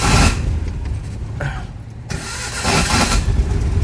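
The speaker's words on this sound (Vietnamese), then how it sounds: "Đấy, máy nổ ok ha." An old used car's engine turning over and catching, then running steadily and loudly up close, with a brief quieter dip midway before the engine noise swells again.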